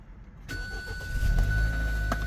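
A car engine starts after a brief silence and settles into a steady, loud running drone, with a faint rapping noise and a high electronic tone over the rumble.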